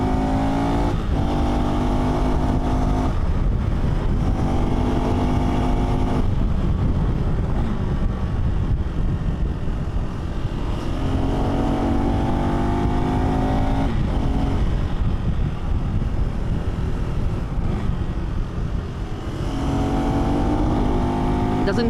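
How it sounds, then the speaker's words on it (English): A single-cylinder motorcycle engine revs repeatedly, rising in pitch through several accelerations and gear changes, with heavy wind rumble and some talking mixed in. "you need to give it some revs to take off"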